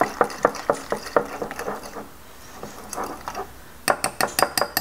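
Muffin batter of zucchini and blueberries being mixed in a bowl, a spoon knocking and clinking against the sides in quick uneven strokes, close and fairly loud, a short quieter stir in the middle, no voices.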